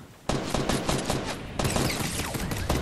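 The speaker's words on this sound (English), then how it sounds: "He's shooting at me and he sucks so much, he didn't even hit me" Rapid gunfire in Fortnite Battle Royale, a dense run of loud, close shots that pauses briefly and then resumes as a sustained burst.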